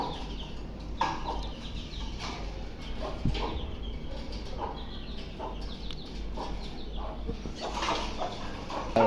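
A native rooster and hens cluck intermittently nearby, soft repeated calls scattered over a low background hum, with no one speaking.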